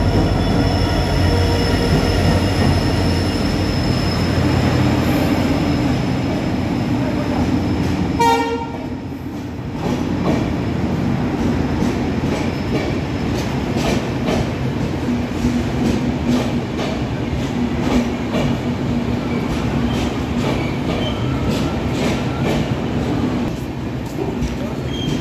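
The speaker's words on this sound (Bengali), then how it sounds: "এই যে ট্রেন ঢুকছে ক্যাপিটাল এক্সপ্রেস" The Capital Express, hauled by a WDP diesel locomotive, rolls into a station platform with a loud, sustained rumble of wheels and carriages, squealing rails and a horn blast, while people talk nearby.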